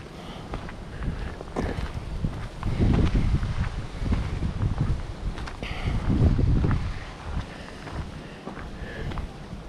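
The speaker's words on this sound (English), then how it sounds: "It's very windy up here." Strong wind buffets the microphone on the old Henry Flagler railroad bridge at Bahia Honda State Park, roaring in gusty surges with heavier blasts midway and near the end, with no talking.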